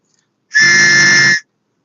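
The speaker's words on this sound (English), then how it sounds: "I think this is a whistle." A single shrill blast from a safety whistle, about one second long, loud and close, with silence before and after.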